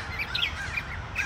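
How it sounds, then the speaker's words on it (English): Several birds chirp and tweet close by in short bright calls, a lively little chorus with no talking over it. "Birds."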